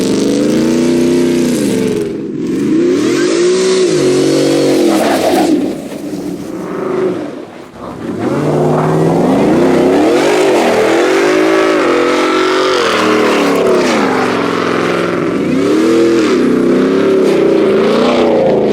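A Ford F150 pickup engine roars and revs hard in repeated rising and falling surges, loud and close, as the truck spins donuts in a snowy empty parking lot.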